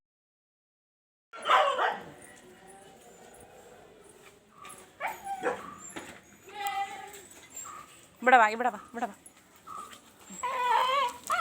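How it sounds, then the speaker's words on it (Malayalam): Dogs in a village yard bark, yip and whimper in bursts that grow more insistent, while a woman repeatedly calls to them nearby. "വഴിയെ പോകുന്ന ആരെങ്കിലും കണ്ടു കഴിഞ്ഞാൽ കുരയ്ക്കും"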